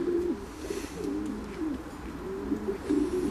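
Racing pigeons kept for breeding coo repeatedly at close range, a steady run of low throaty calls that overlap and rise and fall in a loose rhythm with no talk.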